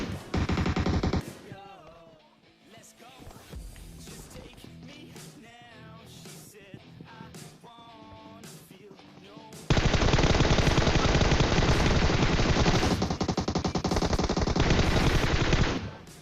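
Gunfire in the mobile game PUBG Mobile: a short loud burst of rapid automatic fire, a quieter stretch of scattered shots and effects, then a long, dense, sustained automatic barrage that continues to the end.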